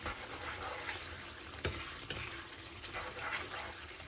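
Mutton curry masala fries in oil on medium heat with a constant soft sizzle and a few light knocks, close but quiet, with no one speaking.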